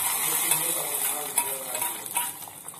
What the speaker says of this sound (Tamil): நம்ம தாளிச்சு எடுத்தது எல்லாத்தையும் பாலக் தாள் ஆட் பண்ணிடலாம்.